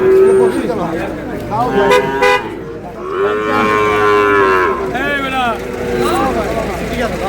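A Sahiwal bull calf at a cattle market moos loudly and close several times, the calls drawn out, with voices of people talking among the animals in the background.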